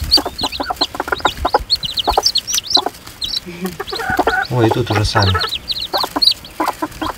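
Farmyard chickens on a homestead cluck and squawk close by in busy, overlapping bursts, with a voice speaking briefly among them.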